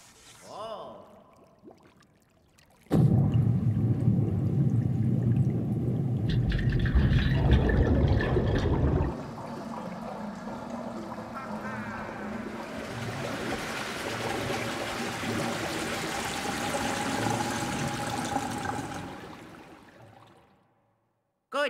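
Water fills and pours in the Luigi's Mansion 3 video game, a loud gushing rush for several seconds that settles into a steady trickling flow, with a voice talking over parts of it.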